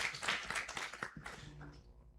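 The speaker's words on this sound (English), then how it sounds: "Let's clap for him." An audience at a business summit claps for a speaker in a brief, quiet round of scattered applause that fades out within about two seconds.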